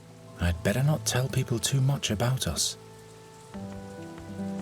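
Rain falls steadily as a soft hiss in the fantasy adventure game The Dark Eye: Chains of Satinav, with a voice talking over it at first and the patter continuing alone beneath quiet music.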